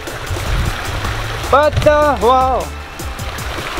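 Water from a waterfall pours into a backyard pond at a turtle and tortoise habitat, a steady rushing wash running under close conversation throughout.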